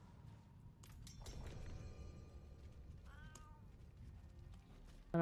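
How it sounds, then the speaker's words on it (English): A cat meows in the Diablo IV video game during Rogue gameplay, a short mewing cry mixed among ringing spell chimes, a shattering hit and low ambient game rumble. "I heard a meow."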